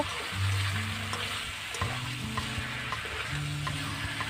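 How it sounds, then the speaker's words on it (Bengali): Chicken in masala being stirred together with fried brown potatoes in a pan, a soft close sizzle with scraping spoon strokes, no talking. "মশলা চিকেন সহ বাদামি আলু খুব ভালো করে মিশিয়ে নেব"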